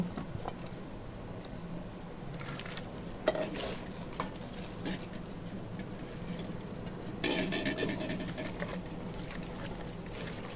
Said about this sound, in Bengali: পেঁয়াজ কুচি দিয়ে দিলাম পেঁয়াজ কুচি পেঁয়াজ কুচি আস্ত রসুন তেজপাতা একসাথে দিয়ে দেব